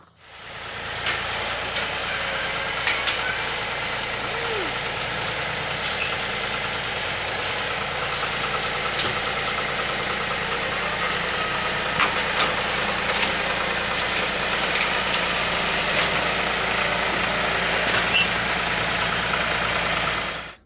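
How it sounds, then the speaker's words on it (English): A tractor engine runs at a steady idle for a long stretch, moderately loud and unchanging, with occasional faint clanks and knocks over the drone. "So I got to get the tractor unloaded."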